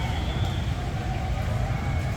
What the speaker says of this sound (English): the noise you hear in the background is a lot of the go-karts